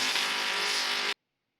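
A BMW at a drifting car event roars loudly and steadily with close, broadband engine and tire noise for about a second, then cuts off abruptly into silence.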